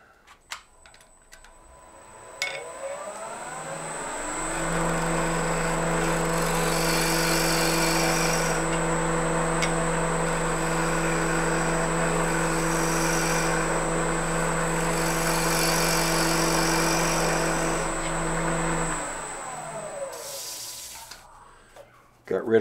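A fluteless gouge shear-cuts stringy wood on a spinning lathe, a steady hissing, scraping cut rising and fading over the whirring motor, with a few passes back and forth.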